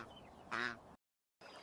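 A mallard duck gives a short nasal quack, close and clear, after a quieter lead-in, followed by a brief silence and a faint resumption.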